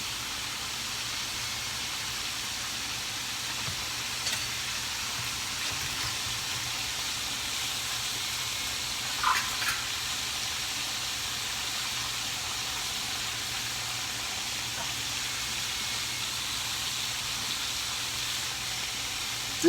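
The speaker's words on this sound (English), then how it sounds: "the sizzle's starting to die down pretty low" Soft, steady sizzling hiss of cubed deer steak frying in a pan with butter, fairly quiet and even, with a faint clink partway through.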